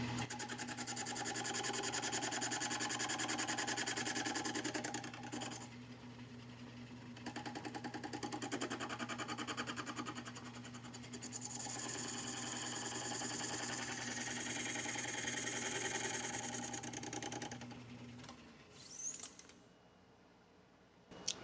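Lathe machining the edge of a muffler for a PM Research Red Wing air-cooled model engine, held on the exhaust pipe; a steady close mechanical whir with a constant low hum runs for most of the clip, then stops near the end.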